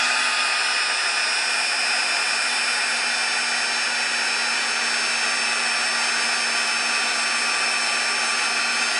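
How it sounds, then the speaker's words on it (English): A heat gun drying craft paper, a loud, steady close-up blowing whir with a constant motor whine that holds unbroken from start to finish, no voices. "use my heat gun and just dry this"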